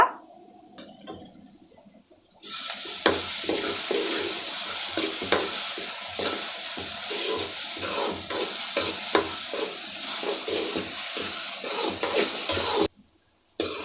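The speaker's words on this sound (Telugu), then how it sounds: "ఇదిగోండి ఆనియను పచ్చిమిర్చి కరివేపాకు అల్లం ఎల్లిగడ్డ మొత్తం వేగుతుంది కదా" Onion, green chili, curry leaves, ginger and garlic frying and being stirred in a pan, a loud steady sizzle with repeated scraping stirs, starting after a quiet opening and cutting off briefly near the end.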